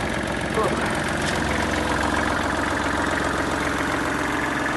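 Kubota GL240 mini tractor engine running just after starting, a steady loud diesel drone with vibration and no break, plus a short voice near the start.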